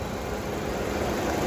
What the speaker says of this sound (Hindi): बिल्कुल रिफाइंड इंजन है बलेनो डेल्टा का, पेट्रोल का